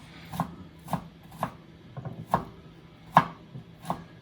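Knife finely chopping fresh ginger on a cutting board, about eight crisp, separate cuts at an uneven pace, close and fairly quiet, with no talk.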